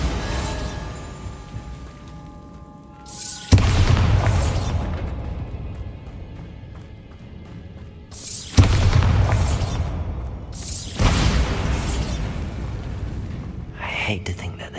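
Spell blasts from Bombarda in the Hogwarts Legacy video game go off as three heavy booming explosions a few seconds apart, each a sharp loud burst fading into a rumbling tail, with game ambience and some voice between.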